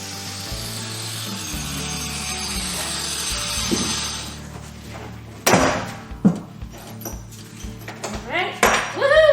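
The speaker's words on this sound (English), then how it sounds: "Fell down. I'll have bolts to pick up later." Loose metal bolts drop and clink during the removal of a driver seat from a school bus being converted, several sharp, close metallic hits and rattles scattered through the second half after a quieter stretch of rubbing noise.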